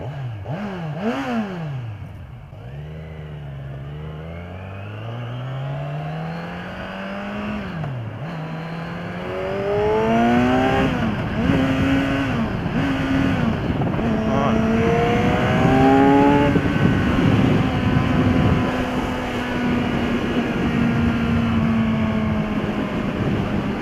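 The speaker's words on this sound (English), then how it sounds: "Let the engine do some of the braking here. It's nice. Downshifting is nice and smooth." A 2015 Kawasaki Z1000 motorcycle engine revs and rises through the gears, with downshifts and engine braking along the way and a steady rush of wind, loud and continuous throughout.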